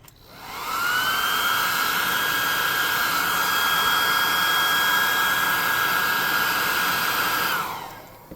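A hot air gun blows steadily to dry white paint on a tabletop miniature, a continuous close whooshing roar with a high whine that starts abruptly, holds level for several seconds and cuts off.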